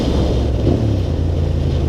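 An 80-horsepower motorcycle idles along on a ride into Akaroa, its steady low engine rumble running continuously beneath loud wind buffeting.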